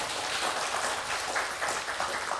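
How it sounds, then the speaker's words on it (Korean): Church congregation applauds during a Pentecost Sunday service, dense steady clapping from many hands filling the room throughout. "박수로 환영하시겠습니다."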